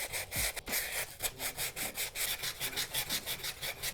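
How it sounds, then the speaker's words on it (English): Fine sandpaper rubbing along the edges of a plaster fresco, a steady back-and-forth scratching of short regular strokes, close and fairly quiet with no voice. "I can take a little bit of fine sandpaper and smooth this out again."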